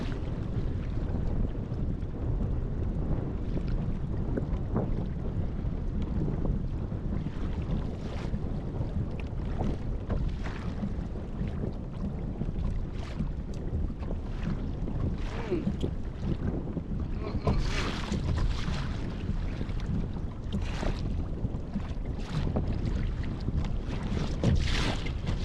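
Steady wind roars across a kayak on Lake Arcadia in triple-digit heat, a constant broadband rush with gusty buffeting on the microphone, loud and unbroken, with no voices.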